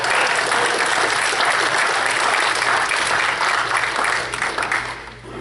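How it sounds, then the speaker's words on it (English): A synagogue congregation at Congregation B'nai Tzedek in Fountain Valley bursts into sustained, loud applause, a dense wash of clapping that holds steady and then begins to taper off near the end. "That deserves a round of applause, right?"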